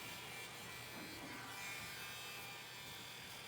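A heat gun running in a boat-building workshop gives a steady, faint, airy whir with a buzzing motor edge, unbroken throughout.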